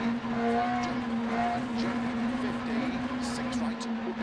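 VW Golf GTI F2 kit rally car in Dirt Rally 2.0 on the Marynka stage in Poland, engine held at full throttle with a steady, loud drone throughout, a driver talking over it.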